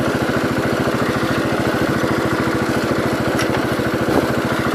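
A 1968 Gravely 430 garden tractor engine runs steadily up close, its fast regular firing pulses loud and continuous throughout with no talk.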